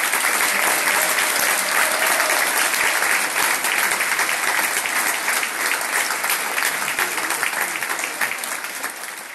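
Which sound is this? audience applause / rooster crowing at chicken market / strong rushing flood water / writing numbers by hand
audience applause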